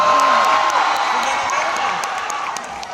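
Live concert crowd applauding and cheering for a singer, a dense, loud wash of clapping and whoops that slowly fades, with a voice speaking over it.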